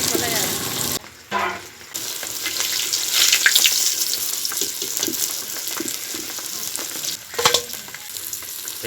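Pieces of katla fish fry in hot oil in a large pan, a steady close sizzle and crackle with occasional stirring clatter and brief dips, under light household background noise.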